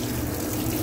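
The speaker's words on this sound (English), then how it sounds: "just regular old tap water." Tap water gushes into pots holding chunks of beef chuck roll, a brief, steady, close rush of running water with no talk over it.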